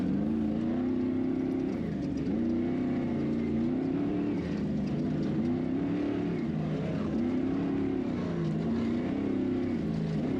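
Ultra4 off-road race vehicles at the Nationals desert race in Laughlin, Nevada, engines droning steadily with a rising and falling pitch as they run laps, continuous and moderately distant.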